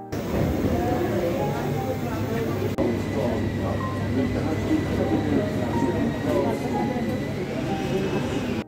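A Jungfrau railway train runs into the underground Jungfraujoch station inside the mountain, a steady loud rumble and rail hum with a faint whine throughout, while a voice talks over it.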